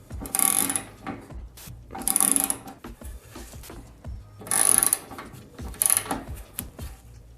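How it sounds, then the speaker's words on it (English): Set screws on a garage door torsion spring being tightened with a ratcheting tool, four bursts of rapid metallic clicking separated by short pauses, close and fairly loud. "I'm just going to start tightening the set screws"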